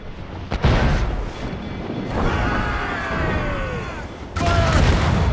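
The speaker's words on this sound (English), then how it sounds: "Ready to fire, sir! Fire! Cannon ready!" Ship cannons firing in an Assassin's Creed Rogue naval battle, loud booming blasts with rumbling tails, one near the start and a heavy burst later, over continuous battle noise.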